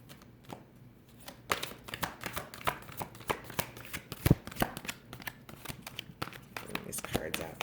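Tarot cards being shuffled by hand, a quick run of crisp riffling flicks and slaps that grows busier and louder over several seconds, close up, with soft speech now and then.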